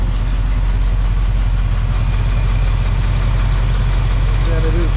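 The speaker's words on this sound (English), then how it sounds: "Engine sounds good." A 1967 Pontiac Firebird 400 convertible engine idles cold, a steady, loud low rumble with an even pulsing beat held throughout at close range.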